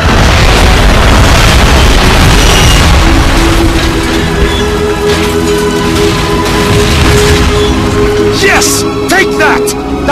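Artillery shells burst in Call of Duty Finest Hour as a dense, loud barrage of booming explosions that fills the whole stretch, with rumbling debris and sharp crackles toward the end.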